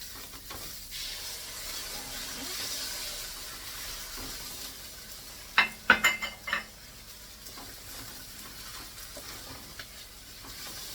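Stir-frying in a pan after soy sauce is added, with a steady soft sizzle and several sharp utensil scrapes and clinks against the pan midway, no talking.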